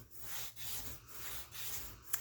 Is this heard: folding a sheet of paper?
yes